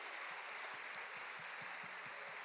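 Church congregation applauding during a sermon, a steady wash of clapping with soft periodic low thumps, likely the beat of rhythmic claps, sounding somewhat distant and uniform throughout.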